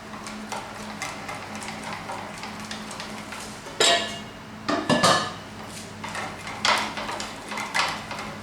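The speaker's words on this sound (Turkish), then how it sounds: "İyice çırpıyorum." Whisking ingredients thoroughly in a bowl for chicken soup, a close, steady clatter of metal against the bowl with a few louder knocks and scrapes near the middle, no talk.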